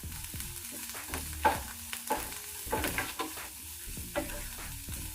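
Onions and curry leaves frying in a pan, with a steady sizzle broken by repeated scraping and stirring strokes under light background music.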